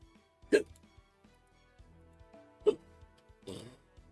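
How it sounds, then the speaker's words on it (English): A person lets out hiccups mixed with a burp, two sharp abrupt gulps a couple of seconds apart followed by a rougher, breathier one, close and fairly loud over faint game music. "I had a combination of hiccup and a burp right there."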